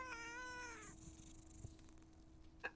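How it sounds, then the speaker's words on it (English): A cat meows in a video game, a single drawn-out, clearly pitched meow at the start that fades, then a faint short sound near the end. "Kitty cat!"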